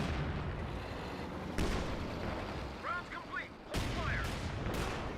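Rapid gunfire from an M8 Scott in Company of Heroes 2, a dense crackle of shots and blasts running under busy battle noise, with sharp louder bursts near the middle and end.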